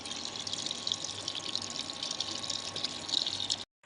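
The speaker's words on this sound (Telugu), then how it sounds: "చూడండి ఇంకా నీళ్ళు అయితే పెడుతున్నాను అనమాట మిషన్కి." Water running into a washing machine drum at home as it fills: a steady hiss and gush close by with no talk, cutting off abruptly near the end.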